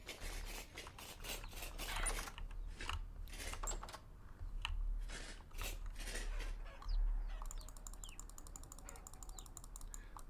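Chickens cluck softly in the survival video game Vintage Story, with game ambience beneath and quick keyboard typing clicks throughout, no voices heard.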